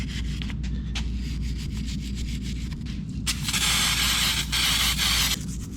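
Scrubbing a 1976 GMC engine block clean, repeated rubbing strokes over a low steady hum, with a louder, brighter stretch of brushing partway through.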